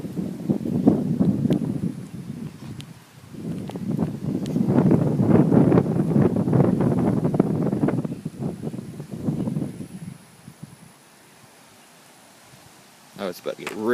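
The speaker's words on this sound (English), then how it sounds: "And now it's getting really windy." Strong wind buffets the microphone ahead of a severe thunderstorm under a shelf cloud, loud rushing gusts rising and falling before easing near the end, with a person talking over it.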